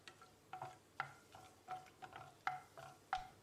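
Whole spices, including cinnamon stick and kalpasi (stone flower), crackle and scrape in hot oil as they are stirred, a soft rhythmic series of sizzling strokes at close range.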